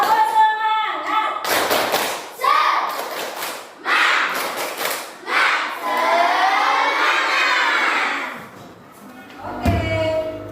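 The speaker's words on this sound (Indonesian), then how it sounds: "Kita tepuk semangat dulu." A class claps together in a patterned rhythm while children chant and shout along, loud and close, ending in a burst of cheering voices.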